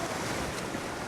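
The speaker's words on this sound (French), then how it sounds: "Laissez maintenant les vagues vous taper." Ocean surf washing over people lying on a beach at Kribi, a brief broad whoosh of breaking water mixed with wind rumble.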